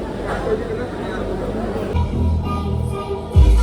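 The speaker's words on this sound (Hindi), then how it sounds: "जितनी ज़्यादा भीड़ विजय सेल्स में थी उतनी ही ज़्यादा भीड़ क्रोमा में भी है।" Busy crowd hubbub fills a crowded Croma electronics store, a steady murmur of many overlapping voices with a nearby speaker talking over it.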